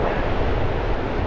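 Strong wind buffeting the microphone on the Bristol Channel shore at Brean during a fishing session, a loud continuous roaring rush with no pauses.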